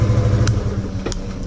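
A Yamaha FZ V3 motorcycle being ridden gives a low, steady engine hum under road and wind noise, with a couple of brief sharp clicks.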